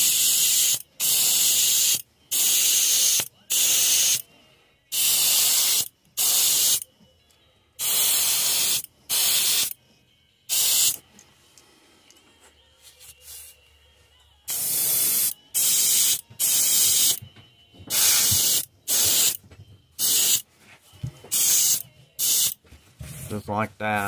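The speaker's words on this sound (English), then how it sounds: "Alright, so what we're gonna do is just spray it at an angle." Pearl white paint sprayed at an angle onto a fishing bait, loud close bursts of airbrush hiss repeating in a regular on-off rhythm, with a quieter pause midway before the bursts resume.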